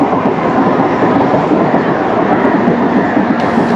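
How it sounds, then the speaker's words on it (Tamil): Inside a moving local train bound for Chengalpattu, a loud, steady rushing roar of wheels and carriage noise fills the whole stretch with no pauses. "ட்ரெயினில் ஏறிட்டேன்."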